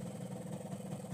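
A cold two-stroke motorcycle engine running on Gasoli Racing 2T oil idles steadily, a close, even low burble with a faint high whine and no speech.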